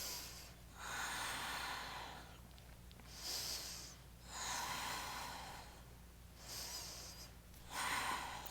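Deep, slow breathing during a yoga flow comes close and soft, with about four long airy inhales and exhales in an even rhythm and no speech.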